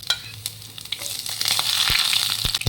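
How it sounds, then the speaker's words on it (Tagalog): Sliced ginger sizzles and crackles in hot cooking oil as it is sautéed for chicken liver and gizzard adobo, a steady close frying hiss with occasional pops and stirring scrapes that grows fuller toward the end. "nilagyan ko ng mantika at ginisa na nga natin dito ang luya"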